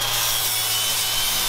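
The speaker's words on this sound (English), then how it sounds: "Now time to grind the back ones." A grinder works on the rear leaf spring of a bus, a loud continuous harsh hiss of abrasive on metal with a low motor drone beneath, unbroken throughout.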